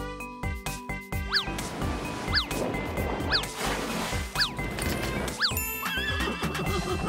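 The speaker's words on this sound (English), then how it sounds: "It's a carousel horse." A horse whinnies again and again at an amusement park carousel, five sharp neighs spaced evenly over a loud rhythmic music beat with clip-clop-like thumps.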